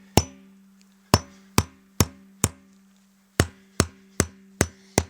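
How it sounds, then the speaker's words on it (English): A hammer strikes studs set into a tire, a run of sharp, evenly spaced metallic whacks, about ten in two bursts with a short pause between, close and clear with no talking. "all it takes is just a little whack with a hammer, and that helps seats them pretty good"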